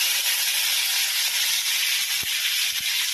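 Curry leaves hit hot oil with popping mustard seeds and cumin, giving a steady, close, bright sizzle with a couple of faint low knocks.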